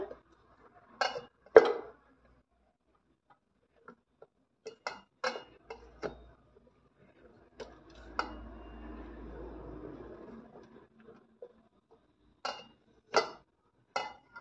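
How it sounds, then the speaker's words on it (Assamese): Boiled jackfruit seeds crushed one by one under a glass in a kitchen: sharp separate knocks and clinks come in pairs and small clusters with quiet gaps, and a soft rustling grind runs through the middle, all close by with no talking. "কঁঠাল গুটিখিনি সিজাই ল'লোঁ, লৈ গিলাচ এটা দি এনেকৈ ভাঙি দিম"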